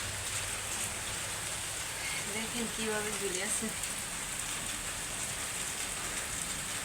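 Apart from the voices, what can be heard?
heavy rain falling outside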